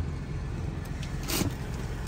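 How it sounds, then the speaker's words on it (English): A gasoline generator runs inside a van, a steady low rumbling drone that holds close and even throughout, with a brief brighter rattle near the end. "we're running the generator right now, which runs on the fuel, the gasoline"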